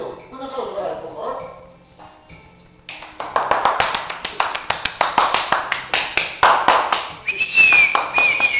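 Sharp, separate claps ring out in a small gathering after an introduction of an accordion performer, starting after a stretch of voices and a dog's yips, with talk continuing underneath and a whistle near the end.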